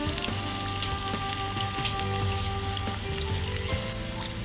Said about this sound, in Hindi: देखिए तल रहा है ये अच्छे से। इसको गोल्डन ब्राउन तलना है।